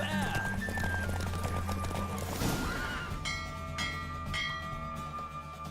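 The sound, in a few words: horse galloping, from the video game The Witcher 3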